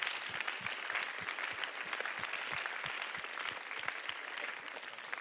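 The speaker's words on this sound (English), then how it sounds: "So can we get a round of applause for everybody a part of that?" Steady, fairly distant audience applause at an evening pitch event hosted by a club, a continuous wash of many hands with a few louder claps standing out, alone without talk.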